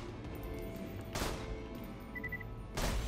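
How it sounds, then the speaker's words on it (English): Amp shot gunfire in Borderlands 2 bursts out twice as short, loud blasts over a steady game background hum. "I think that was the amp shot."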